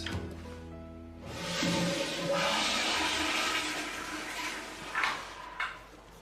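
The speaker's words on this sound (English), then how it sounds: "You ever heard of courtesy flush?" A toilet flushes nearby with a rising gurgling rush of water that swells, holds steady, then drains away, followed by a couple of faint clicks and knocks.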